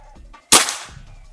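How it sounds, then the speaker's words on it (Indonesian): A single sharp crack from a Brontax 500cc PCP air rifle fired outdoors, loud and close, with a short decaying tail and quiet surroundings before and after. "Tembakan pertama."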